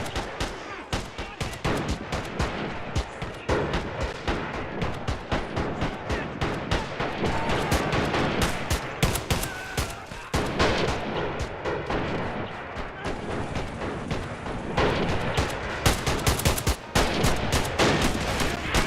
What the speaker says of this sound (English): Artillery shots have now been fired.